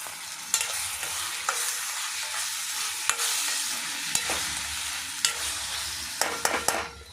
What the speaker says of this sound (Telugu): ఈ టమాటో బాగా ఎర్రగా వేగనిద్దామండి